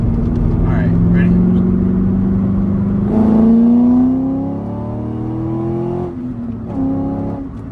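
A cammed C5 Corvette engine with a Halltech Venom TKO cold air intake idles with a low rumble, then revs up and climbs in pitch, drops back, and revs again briefly, close and loud.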